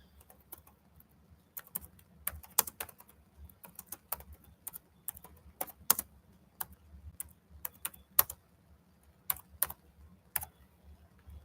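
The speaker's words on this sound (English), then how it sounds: "Let me get it typed in." Fingers tap on a computer keyboard in irregular bursts of crisp, close keystrokes, with short pauses between, set against a quiet room with faint low background hum.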